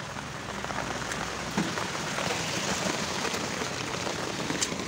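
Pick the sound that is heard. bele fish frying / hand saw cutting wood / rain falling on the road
rain falling on the road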